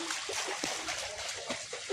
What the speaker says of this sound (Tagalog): Naglilimas sila dahil pumasok na sa bahay nila yung tubig.